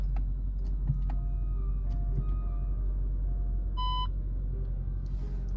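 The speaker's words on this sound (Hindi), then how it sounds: "अगर मैं कार स्टार्ट करूँगा, ये चेक्ड है, कार स्टार्ट करूँगा और मैं रिवर्स गियर डालूँगा" A Volkswagen Virtus or Taigun idles with a steady low engine hum, and an electronic beep chimes briefly near the end as reverse gear is engaged.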